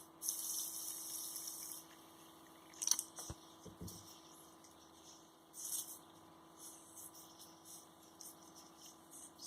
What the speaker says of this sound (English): Let's add water and wash it.